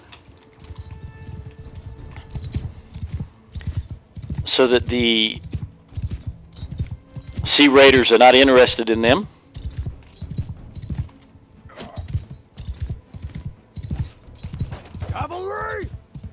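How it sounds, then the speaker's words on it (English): Cavalry horses gallop across a battlefield in Mount & Blade II: Bannerlord, a constant rapid clip-clop of many hooves with a few neighs and whinnies, while someone narrates over it. "Send my horses way over there"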